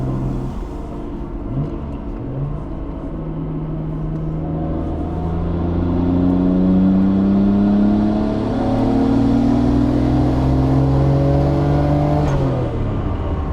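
A JDM R33 Nissan Skyline GT-R on a standalone engine computer revs up close as it accelerates. Its engine note climbs steadily through several gear pulls, with a deep rumble and a rising whine, and it is loud and unbroken.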